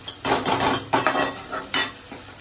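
Chopped onion and tomato with salt frying in a pan, sizzling softly while a spoon scrapes and stirs in several distinct bursts, with clinks of utensil against metal.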